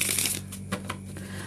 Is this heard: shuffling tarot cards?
yes